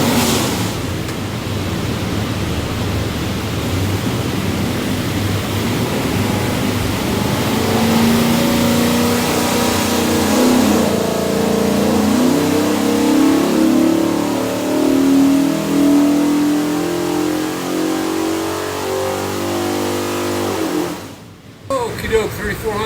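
A 408 Windsor Ford small-block V8 screams on an engine dyno, its steady roar rising in pitch through a long full-throttle pull before abruptly cutting off near the end.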